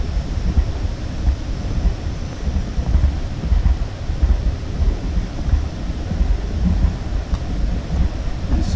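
River water rushing through a rocky gorge at Clifton Gorge near Yellow Springs, Ohio, a steady, loud, continuous roar that stays even throughout with no voices.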